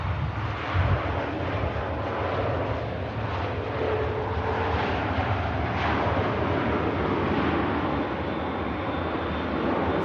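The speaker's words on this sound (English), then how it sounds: "Very steady approach from the Ryanair." A Ryanair airliner on a steady landing approach at Manchester Airport roars as a broad, continuous jet rumble, fairly loud and unbroken, with wind and rain-like hiss in the background.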